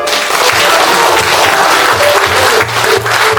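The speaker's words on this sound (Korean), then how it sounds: "여러분을 위해서 박수 한번 더 주십시오" Dense, steady applause from a seated audience at a monthly meeting of a March 1st independence veterans' association, loud and continuous for a few seconds with a brief dip near the end.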